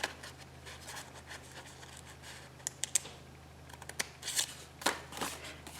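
Scissors snip through paper in a few short, crisp cuts, close by, with faint rustling in between and no talking.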